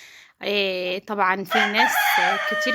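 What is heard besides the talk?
Indian breed rooster crowing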